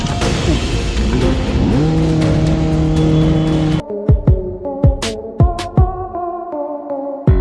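A loud motorbike engine roars and revs up close for several seconds, then cuts to a series of sharp bangs and clatters.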